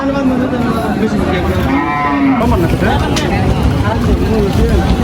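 Cattle moo loudly over the steady din of a crowded Bangladeshi cattle market before Qurbani, with people chattering throughout.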